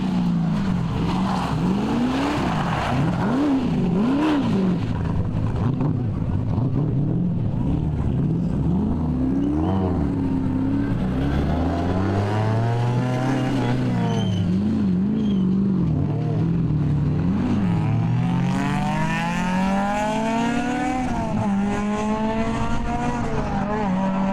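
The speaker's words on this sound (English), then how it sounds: "But an invigorated Brent Emerson, complete with rebuilt motor, is on a charge, wet road or dry." Rally car with a rebuilt motor racing hard on a road in the Targa NZ tarmac rally, engine revving and rising through gears as it passes, loud and continuous with commentary faintly underneath.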